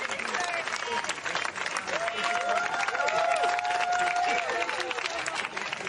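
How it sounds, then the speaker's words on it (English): Colleagues cheering and applauding as CDC officials are escorted off the premises: dense, sustained clapping from a crowd with raised voices mixed in, steady throughout. "Three of those people were escorted off CDC premises to a crowd of cheering and applauding colleagues."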